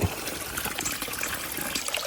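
Spring water trickling up from underground at a remote mountain farming area, a steady soft babbling flow heard close by throughout, with no voices.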